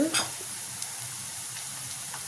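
Chopped onions frying in a pan after mustard seeds and cumin, with curry leaves going in, a steady soft sizzle opening with a brief louder hiss as they hit the oil.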